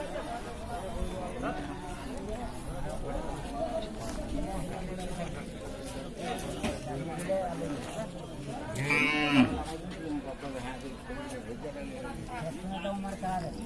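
A dairy cow moos loudly once amid steady crowd chatter and people talking at a busy outdoor cattle market in Dinajpur, Bangladesh.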